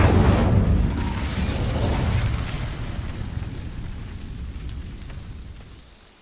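A Confringo spell in Hogwarts Legacy bursts in a loud, close explosion, then a rumbling, crackling roar that slowly fades over several seconds.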